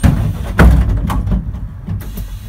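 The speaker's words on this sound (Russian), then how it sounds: "Теперь нажимаем на вот эту красненькую, закрываются сразу обе дверки." Both passenger doors of an Ikarus 280 bus close together with a loud pneumatic thump and rush of air, followed by a steady low rumble of the idling bus.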